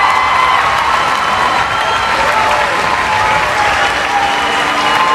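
Audience at a fair stage show applauds and cheers loudly and steadily throughout, a dense wash of clapping with scattered shouts from the crowd.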